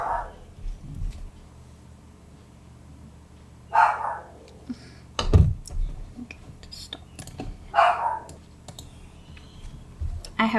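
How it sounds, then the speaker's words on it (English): Pomeranian barking indoors in a few sharp, separate bursts several seconds apart, close and fairly loud, with clicking and faint background sounds between the barks. "I have no idea what he was barking at."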